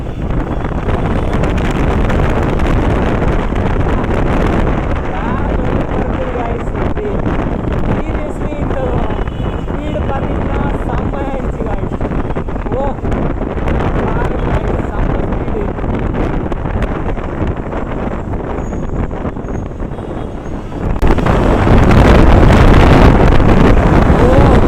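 Steady rushing wind noise and road roar from an Ultraviolette X-47 Recon electric motorcycle riding fast, loud and continuous throughout, swelling louder in the final seconds.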